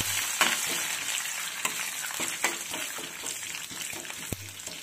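Curry leaves hit hot oil after fenugreek seeds for a pulissery tempering, giving a steady close sizzle and crackle with sharp pops and stirring clinks throughout.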